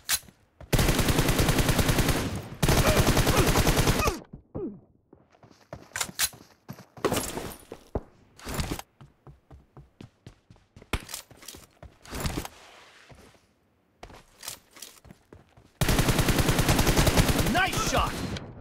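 Bursts of M416 assault rifle fire in a shooter video game, loud sustained automatic volleys at the start, again midway, and at the end, separated by scattered single shots, footsteps and handling clicks.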